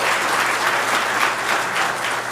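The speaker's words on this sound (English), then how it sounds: "you absolutely can applaud each of them individually because they deserve" Applause from an audience at a graduate hooding ceremony, steady and dense clapping filling the whole moment without a break, close and fairly loud.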